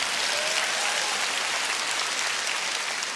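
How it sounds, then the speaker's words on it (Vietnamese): Audience applause at a comedy stage show, a dense, steady burst of many hands clapping at once, loud and sustained for the whole stretch with no talk over it. "Cho một tràng pháo tay cho bà con ơi."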